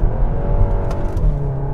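A 2022 Cupra Ateca 2.0 TSI with 300 hp accelerates, its exhaust giving a loud, close, steady low drone with a slight rise in revs over a couple of seconds.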